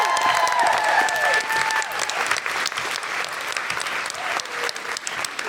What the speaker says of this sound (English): can I just have a huge cheer for Tom Salinsky, who's produced all of this